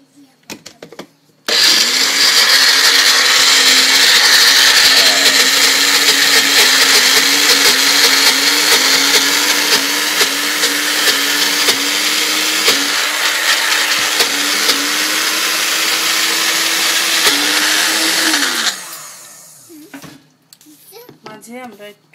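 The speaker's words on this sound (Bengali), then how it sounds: "এখন দিয়ে আমরা আবার করব, ব্লেন্ড করব।" Loud, steady whir of a kitchen blender grinding a black seed (kali jira) bhorta mixture, running nonstop for about seventeen seconds with a slight pitch wobble before spinning down into quiet.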